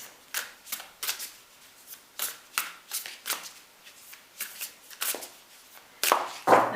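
Tarot cards being shuffled and pulled, a series of quick papery riffles and slaps in irregular bursts, close and fairly quiet, with a louder final flurry of card handling.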